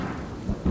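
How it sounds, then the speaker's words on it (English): Thunder from a storm sweeping over the Woolloongabba cricket ground in Brisbane, a short low rumble with two heavier booms toward the end, no voices. "The storm that swept through Brisbane, concentrating itself on Woolloongabba and on the cricket ground."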